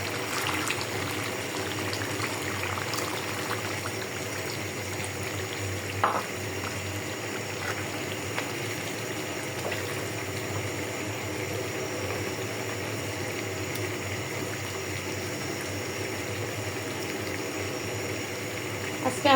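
Meat and potato curry simmering in a pan after water is added, giving a steady bubbling sizzle that runs evenly throughout with a few small clinks, no talking.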